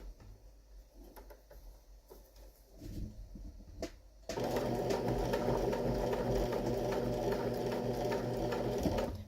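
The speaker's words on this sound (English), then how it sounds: "And then I just stitch right onto it." Sewing machine stitching a homemade fabric mat, starting with a few quiet handling sounds before a steady, loud, continuous motor whir takes over for the second half, close up.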